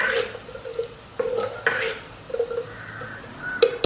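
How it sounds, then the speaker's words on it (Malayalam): A spoon stirs puli inji ginger curry in a clay pot, giving scraping, clinking strokes at a steady, close, moderate level with a faint background hum. "ഇടയ്ക്കൊന്ന് ചട്ടി കൊണ്ടൊന്ന് ഇളക്കി കൊടുത്തേക്കുക."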